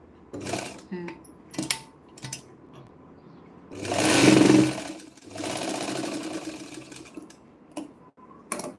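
Domestic sewing machine running a number-five stitch on a blouse, with one loud burst of motor whirring in the middle and a longer steady run after it, plus short clicks and handling noises around them.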